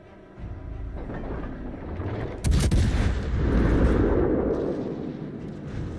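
Warship guns firing in World of Warships Legends: a low rumble builds, then a heavy booming salvo bursts out and rolls on as a long, loud, deep rumble.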